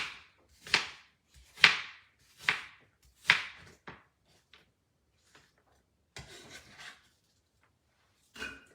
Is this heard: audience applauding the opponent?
no